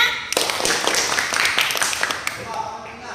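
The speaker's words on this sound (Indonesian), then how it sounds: "Berikan tepuk tangan untuk temannya" Classroom students clap for a classmate during a lesson, a burst of dense, scattered hand claps that begins sharply and carries on steadily before thinning toward the end, fairly close and with no talk over it.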